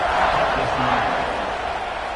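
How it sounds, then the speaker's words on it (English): A football stadium crowd at Notre Dame versus South Carolina buzzes after a touchdown, a dense, steady roar of many voices filling the whole space without pause. "this crowd is buzzing after that last score"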